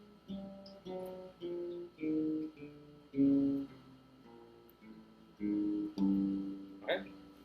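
A bass guitar playing a descending exercise in a short sequence of plucked notes, fairly quiet and close, with a voice speaking between some notes.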